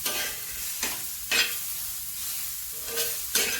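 Onion frying in a pan for a ridge gourd (dodka) vegetable dish: a steady broadband sizzle with a few sharper scraping swells from stirring, close and continuous throughout with no talking.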